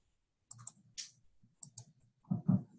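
A computer mouse clicks several times in a quiet room, a few close, sharp clicks spread out with short gaps, some in quick pairs.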